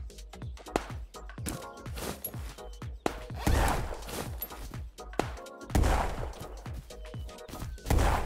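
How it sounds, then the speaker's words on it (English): Gunfire in a solo PvP shooter raid game, rapid bursts of shots in quick rhythmic volleys with louder clustered blasts, sustained over the whole stretch with no talk. "They're shooting at somebody."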